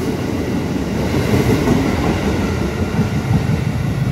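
An electric train rumbles steadily nearby, a loud continuous low roar of wheels on rails with faint clatter, no voices.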